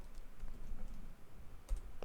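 Fingers typing a command into a terminal on a computer keyboard while setting up an AdonisJS database connection, giving sparse, faint key clicks with a slightly sharper tap near the end and no voices.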